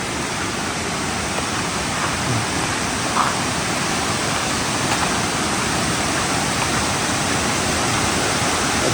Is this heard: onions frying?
no